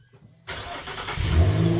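A truck engine cranks and fires up after a brief near-silent pause, then settles into a loud, steady running rumble close by.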